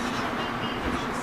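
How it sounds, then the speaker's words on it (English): A passenger train departing a station, heard from inside as a continuous broadband rumble and rattle of the moving carriage, steady and fairly close, with no clear talk. "It's the same train I'm on right now."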